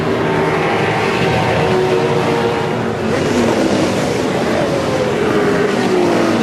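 Race cars roaring at the 2007 Bathurst 1000 motor race, a loud continuous engine howl with a rising and falling pitch as cars pass, heavy and sustained throughout.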